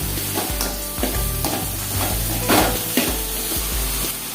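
Mushrooms sauté in a pan with a close, bright sizzle under a rhythmic run of scraping stirs, roughly two each second, with no voices.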